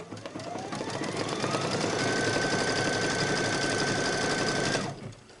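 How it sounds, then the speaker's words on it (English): Embroidery machine stitching a seam stitch on a quilted wall hanging, a fast steady mechanical whir running loud and continuous, then stopping abruptly near the end. "We just stitched the seam stitch."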